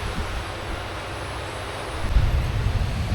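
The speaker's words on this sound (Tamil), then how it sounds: "ஆன் டைம் கரெக்டாக 6 மணிக்கு வண்டி நம்ம போடி நாயக்கனூர் ஸ்டேஷன்லேருந்து மூவ் ஆகிடுச்சுங்க." An evening passenger train pulls out of Bodinayakanur station, heard as a steady broad rumble with low, heavy movement that swells toward the end.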